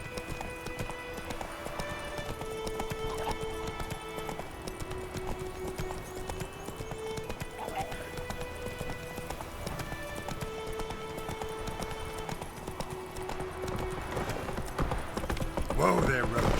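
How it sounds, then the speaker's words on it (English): Horse hooves clip-clop at a steady walking rhythm in The Witcher video game, with a faint whinny near the end, beneath continuous orchestral music and ambient game sound. "Whoa there, Roach."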